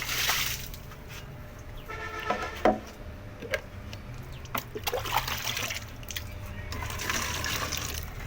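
Water splashes and trickles as old water is changed in a betta fish tank, with intermittent pouring and dribbling sounds at close range and a few sharp clinks.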